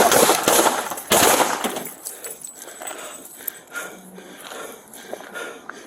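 Gunshots ring out during a police shooting, with a few sharp, loud bursts at the start followed by quieter scattered noises and movement.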